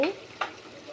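Vegetables with coriander leaves stirred in a pan, one short scrape of a spoon over a soft, faint sizzle, brief and close.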